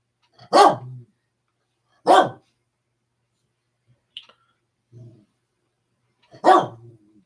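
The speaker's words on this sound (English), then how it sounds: "I just love how he barks randomly at the nowhere, not at me." A dog barks in three loud, separate bursts spaced a couple of seconds apart, with a few soft clicks and low rustles in the quiet gaps between them.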